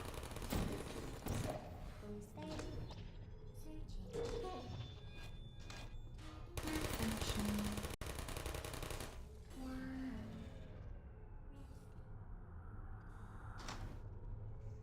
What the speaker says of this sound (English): the turrets do actually have audio for when they shoot each other